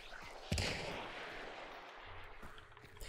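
A single Martini-Henry rifle shot in the video game Hunt: Showdown cracks sharply and then rolls into a long fading echo, and quieter distant shots follow.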